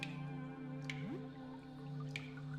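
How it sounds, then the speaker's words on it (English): A pipe drips in the video game Look Outside, with a few faint, sparse drops over a steady low ambient hum. "From the dripping pipe."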